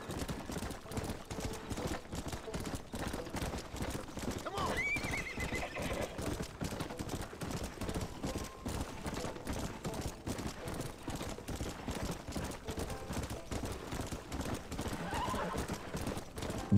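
Hooves clip-clop in a fast, steady gallop with a sharp horse whinny partway through, over a constant rumbling background, from the video game Red Dead Redemption.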